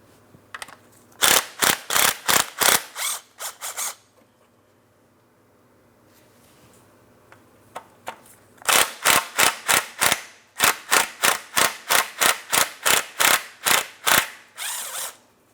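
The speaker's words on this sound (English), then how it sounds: "there's 2 10 millimeter headed mounting bolts holding this in place. Let's go ahead and remove the pair" A ratchet rapidly clicks out two 10 mm mounting bolts holding a plastic shield on a 2004-2008 Pontiac Grand Prix 3.8L V6, with two loud bursts of evenly spaced clicks separated by a pause.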